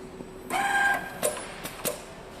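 Thread cutter on a Richpeace single needle quilting machine, triggered manually: a brief mechanical whir followed by a few short clicks and snaps, close and distinct against a quiet workshop background.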